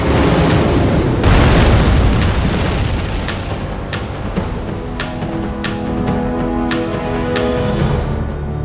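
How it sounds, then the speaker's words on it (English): Explosions as the aircraft carrier Yorktown is hit during a Midway naval battle in Battlestations: Midway, a heavy booming blast followed by a string of sharper pops and bursts, loud and rumbling, with no voices. "The Yorktown got hit severely."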